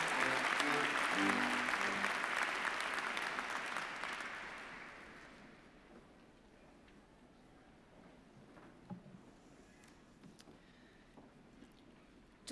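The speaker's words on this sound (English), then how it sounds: "Please join me in a round of applause." Large audience applause for engineering graduates at an Imperial College postgraduate ceremony, loud at first, then fading away after about five seconds into a quiet hall with faint stray sounds.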